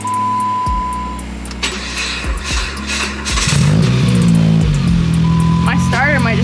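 A car engine idling and warming up just after being started, heard close and steady, growing louder and fuller midway through, with someone talking over it at times.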